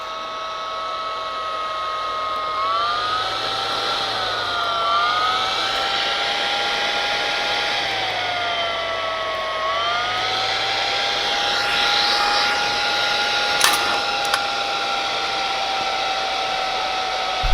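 Steady whirring hum of a Speedglass Adflo welding respirator blower running off a Makita 18V battery through a buck converter, its pitch wavering slightly as the motor speed drifts, close and continuous with no voices.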